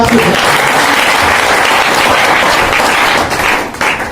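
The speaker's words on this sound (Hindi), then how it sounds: "जोरदार तालियां होनी चाहिए एक बार" Loud, dense applause from a large audience at a motivational business rally, sustained clapping that dips briefly near the end before swelling again.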